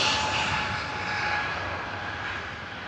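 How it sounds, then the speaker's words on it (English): A British Airways Airbus A321neo departing, a steady moderately distant jet-engine roar with a faint whine, gradually easing in level. "British Airways A321neo on the departure."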